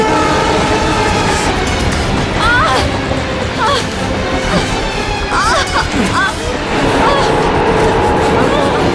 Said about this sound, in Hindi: ट्रेन स्पीड पकड़ चुकी है।